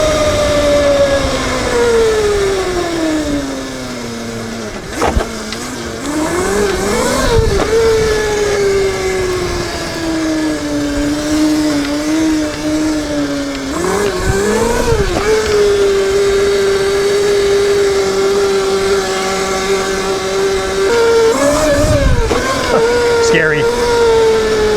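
A 13 kW (17 hp) electric pit bike whines at speed, its motor tone sliding up and down as it surges and eases, loud and close over wind rush, with talk over it.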